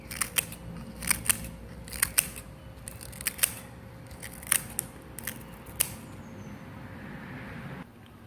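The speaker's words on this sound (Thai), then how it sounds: "ใบเตยล้างน้ำเสร็จแล้วตัดเป็นท่อนๆใส่ลงไปในนี้เลยค่ะ" Scissors cutting washed pandan leaves into pieces for papaya tea, a dozen crisp snips at an uneven pace, close and fairly quiet over a faint background hum.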